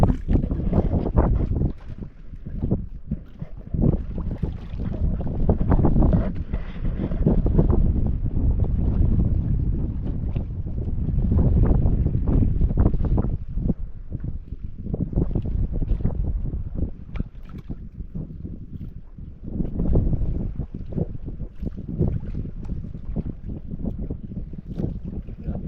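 Strong wind roars and gusts against the microphone continuously, with low rumbling and water-like wash in the background.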